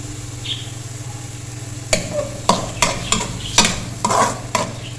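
Chopped medium-size onion stirred into half a cup of hot oil, sizzling steadily in a pan for a bottle gourd curry, with a series of sharp spoon scrapes and clinks against the pot over a constant low hum.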